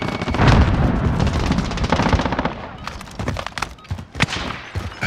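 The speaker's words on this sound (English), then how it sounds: "Tossing a frag." Frag grenade blast and rapid automatic gunfire in Call of Duty Modern Warfare 2019, a heavy boom followed by dense close bursts of shots, then scattered single shots and thumps.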